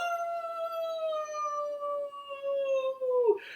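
A voice imitating a wolf howl: one long, sustained, slightly falling tone that drops off sharply at the end, clear and alone.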